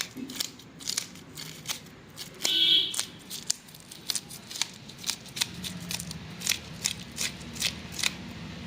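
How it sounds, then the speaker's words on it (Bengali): Rohu fish scales scraped off with a potato peeler, a run of short rasping strokes in a steady rhythm, close and fairly faint, with one brief brighter scrape midway. "আলু ছিলা ছুরি দিয়ে খুব ভালো করে আঁশটাকে ছাড়িয়ে নিচ্ছি"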